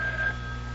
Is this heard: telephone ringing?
yes